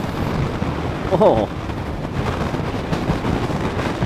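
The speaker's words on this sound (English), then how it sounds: "it's really windy up here" Strong wind buffeting a microphone on an exposed hilltop during a motorcycle memorial ride, a steady broadband roar throughout with a brief spoken exclamation near the middle.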